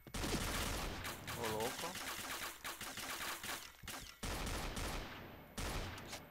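Rapid bursts of automatic gunfire in the shooter game Point Blank, loud and dense with short gaps between volleys, while a man exclaims briefly over the shooting.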